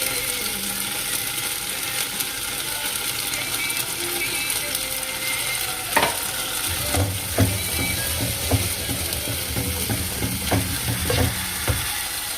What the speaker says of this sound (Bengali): এই তো মশলাটা আমি কষাচ্ছি এখন